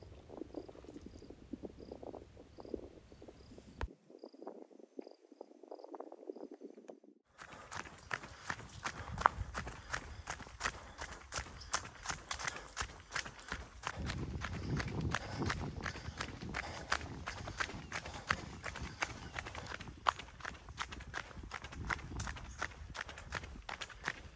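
Quick rhythmic footfalls of someone jogging on a trail in Everglades National Park, Florida, close and steady, with crickets chirping in the background.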